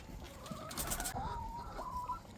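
Chickens cluck softly at a moderate distance, with a few drawn-out, wavering calls over low background noise.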